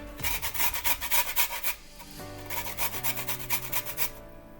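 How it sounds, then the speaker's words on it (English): A carrot is grated finely on a hand grater in quick rhythmic rasping strokes, two close bursts of steady back-and-forth scraping with a brief pause between them and no talking. "Yeah, it's grating the carrot."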